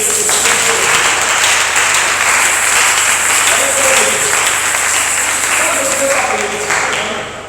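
A church congregation at a Sunday service claps in sustained, loud applause mixed with cheering voices, holding steady for several seconds before beginning to fade at the end.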